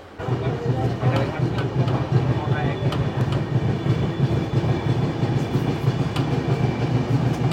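Howrah Barbil Jan Shatabdi Express running near Jhargram, heard from inside a coach as a steady rumbling roar with rhythmic clicks of the wheels over rail joints, and a voice speaking under the noise.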